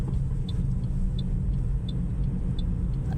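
Car traffic at a roundabout in Saudi Arabia, heard from inside a moving vehicle: a constant low engine and road rumble, with a soft, regular ticking like a turn indicator about every 0.7 seconds.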